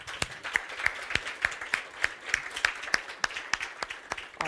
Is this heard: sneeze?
no